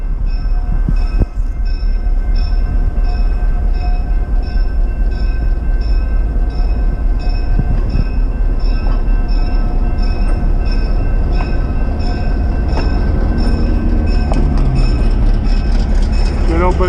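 The Beach Train rumbles past close by, its steady rolling roar and clatter continuous with tonal squeals and horn-like tones, while voices talk faintly underneath.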